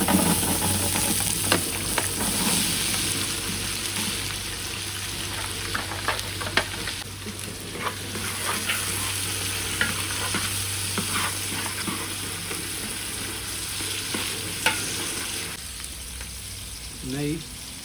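Oil sizzling and frying in a dried-out pan while ingredients are sautéed and stirred for mutton biryani, a steady continuous crackle with occasional scraping clicks throughout.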